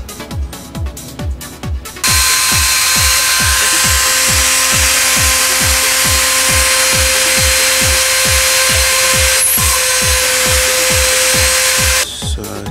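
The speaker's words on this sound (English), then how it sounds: "I will go take this board now through the drilling process" A high-pitched drill whines steadily for about ten seconds while drilling holes in a circuit board, with a rapid rhythmic ticking underneath, briefly stopping and starting at the edges.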